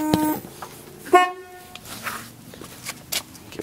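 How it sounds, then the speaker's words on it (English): A short horn honk from a 1971 Oldsmobile Delta 88 near the start, then a brighter second toot, followed by faint rustling and handling noise. "Give a little honk."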